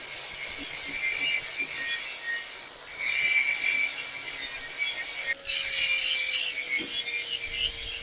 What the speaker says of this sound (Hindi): बाहर से लगा दिया है, अब अंदर से लगा रहा हूँ ग्राइंडर।